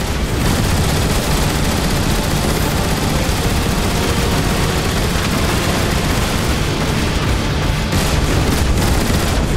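Sustained heavy gunfire and booming blasts aimed at a Decepticon warship in the Transformers: War for Cybertron video game, a loud continuous barrage with dense rapid shots and explosions throughout.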